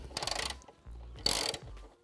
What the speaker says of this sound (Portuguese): com o auxílio de uma chave catraca, um alongador curto e uma chave 14 milímetros, nós vamos fazer a quebra do aperto da fixação superior